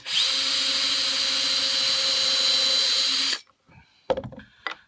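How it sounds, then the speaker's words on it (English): A power drill bores a hole through a wooden door bead during door making, a loud steady whine for about three seconds, then stopping, followed by a few brief clunks and knocks. "Drill your hole out."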